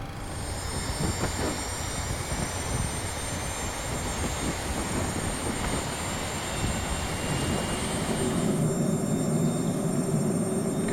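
An IXEG 737-300 engine spooling up during start in X-Plane 11, a steady loud whine and rumble with high tonal hums, shifting to a deeper roar near the end.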